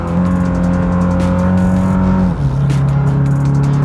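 Hyundai RM19 mid-engine sports car engine revving hard at high rpm, a loud, sustained tonal roar that dips briefly as the pitch steps down with a gear change, with no talk.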